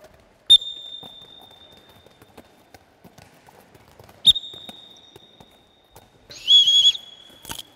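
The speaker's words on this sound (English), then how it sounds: "Just wait for my whistle." A coach's whistle during a proprioceptive training drill gives three sharp, shrill blasts: two short ones several seconds apart, then a longer, wavering blast followed by a quick final chirp, over a quiet room.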